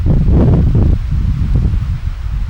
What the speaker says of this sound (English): the original sound of our environment. We were at the beach and this is how the sound was